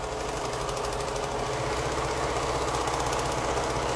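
A sewing machine stitching quilt pieces together runs with a steady, fast, even mechanical chatter, close and continuous throughout with no talking.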